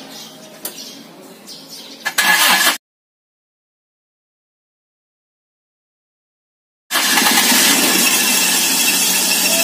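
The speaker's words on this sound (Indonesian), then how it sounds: "Langsung saja lakukan starter." A vehicle engine is cranked by its starter motor while a battery checker is connected. A short loud burst is followed by a silent gap, then a sustained loud, close whirring roar with a squealing edge.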